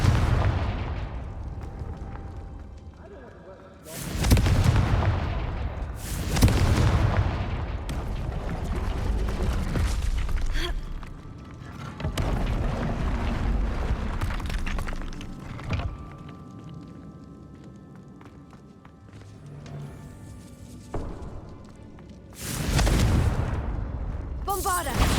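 Confringo blasting spells go off in Hogwarts Legacy: several loud, deep booming explosions at irregular intervals, each decaying into rumbling debris over an ongoing game backdrop.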